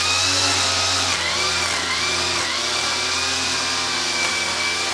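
A gas weed trimmer's small two-stroke engine runs close by at high revs, giving a loud, steady, buzzing whine with a slight waver in pitch and no pauses.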